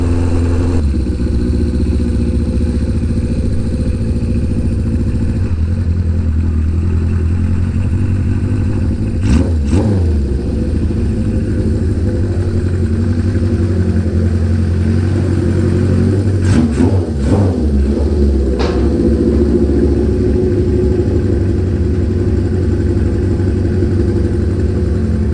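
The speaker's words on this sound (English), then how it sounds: "For a first ride for a bike we built in a week, I'm pretty stoked." A Honda CB550 motorcycle engine with no air filters runs loudly and steadily during a ride, its up-close drone rising and falling with a few brief shifts and revs.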